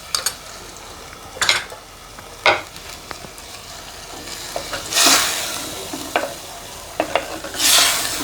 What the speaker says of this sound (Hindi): लहसुन डालकर मैंने 2 से 3 मिनट के लिए कीमे की अच्छी तरह भुनाई कर ली है